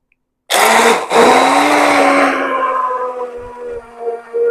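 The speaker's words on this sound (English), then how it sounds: "I'm going to take my blender here, and I'm going to put it in here" An immersion blender whirs loudly up close as it mixes olive oil right in a jar, starting abruptly, steady for a few seconds, then easing slightly as the motor pitch drifts, with no talk.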